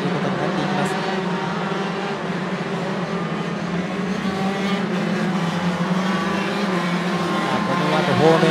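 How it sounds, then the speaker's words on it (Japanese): Yamaha YZ85 motocross bikes drone steadily around a dirt track during a qualifying heat, several engines layered at a distance, with an announcer talking over them. "神谷のマシンはなんとかこの予選ヒートまでに、マシンがトラブルが解消したかコースへと入ってきました"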